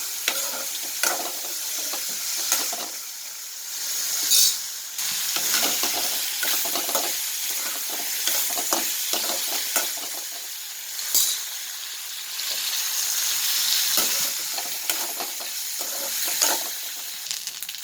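Steady crackling sizzle of dried anchovies frying in hot oil, with occasional louder pops and stirring scrapes throughout.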